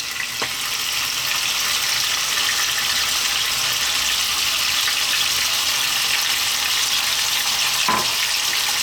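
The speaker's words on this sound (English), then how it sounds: "we're gonna fry this for about 5 minutes on a just above medium heat" Chicken pieces frying in a pan just above medium heat, a dense, steady loud sizzle and crackle filling the whole stretch, with a couple of brief knocks or stirs and no talking.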